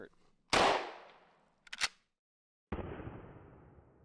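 Sharp gunshots crack out one at a time on a ranch, each followed by a rolling echo, with short silent gaps between them.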